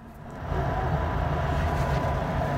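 An Amtrak passenger train rumbles steadily along the rails, heard from inside as a loud, continuous low roar that swells early and then holds even.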